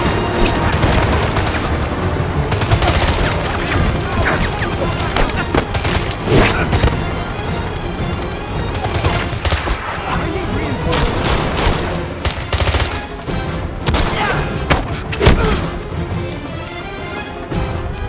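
Continuous gunfire and explosive booms in the James Bond 007: Blood Stone action game, dense and loud throughout with sharp bursts, mixed under music and occasional shouted voices.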